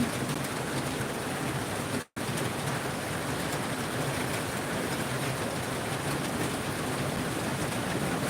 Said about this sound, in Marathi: जोरात आलाय आता पाऊस